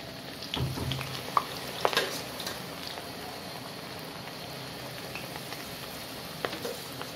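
Battered cauliflower pieces added one by one to hot oil for deep frying: a faint, steady rain-like crackle with a few louder pops early on.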